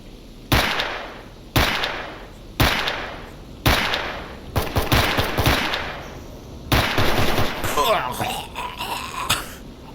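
Gunfire from enemies in the S.T.A.L.K.E.R. Anomaly shooter game: loud, sharp shots in spaced bursts, each ringing off with a short echo, building to rapid overlapping fire near the end.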